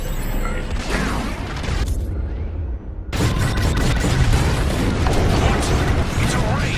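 Bombs exploding in the Star Wars Squadrons video game: dense roaring blasts and rumble, a brief drop into near quiet, then a renewed barrage of loud booms and crackling impacts.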